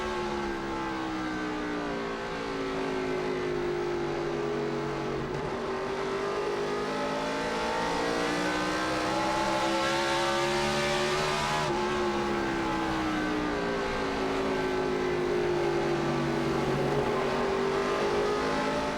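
A NASCAR Xfinity race car roars continuously through a lap at Indianapolis Raceway Park in 2007, heard from onboard, its engine note rising and falling through gear changes, loud and steady with no talk.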